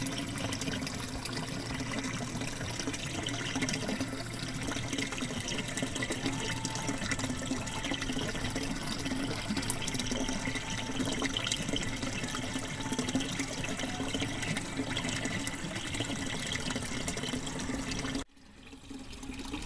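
Water running through a pond bog filter, flowing up through gravel and plant roots before returning to the pond, makes a steady, close splashing and trickling wash that continues unbroken for most of the stretch and then cuts off near the end.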